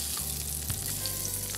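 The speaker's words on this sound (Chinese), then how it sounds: "其实这样子煎煎它就熟了" Pancake batter sizzling as it fries in a hot pan, a steady close hiss with faint crackles throughout and no talking.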